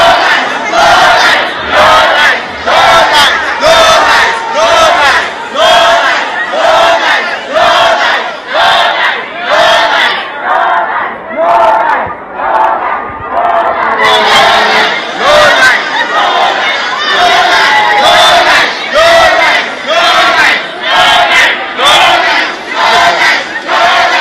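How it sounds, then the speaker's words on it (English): A loud crowd of university students chants and boos at a state governor during his campaign visit, rhythmic group shouts repeating in steady pulses, close and dense throughout. "Students were calling out the governor in his presence, protesting against him and booing him while he came for a campaign."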